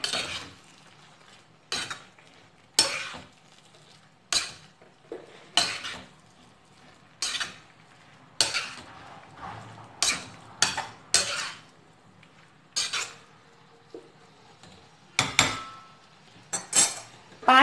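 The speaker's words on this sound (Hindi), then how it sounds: "और हमने जो कटहल शैलो फ्राई करा था वो भी हम इसके अंदर ऐड कर देंगे।" Shallow-fried jackfruit pieces go into a masala in a pan and are stirred. A spoon strikes and scrapes the metal in sharp, irregular clinks, repeated many times over a quiet background.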